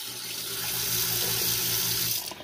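Cold water runs steadily from the tap in a 1986 Fleetwood Prowler 23P travel trailer, a close, continuous rushing stream that cuts off just before the end.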